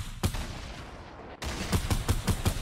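Rapid bursts of gunfire ring out in Fortnite, a quick shot followed by a rattling volley of close, loud shots in an even rhythm.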